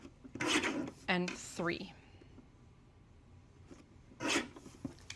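Paper for a card-making kit being trimmed with a cutter, a few short rasping strokes near the mic, with a person speaking around and between them.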